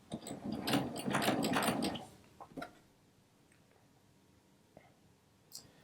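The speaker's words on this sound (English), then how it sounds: "I'm going to take a few stitches" A sewing machine stitching a rag quilt runs a short burst of a couple of seconds close by, then stops, leaving faint scattered ticks and rustles of fabric handling.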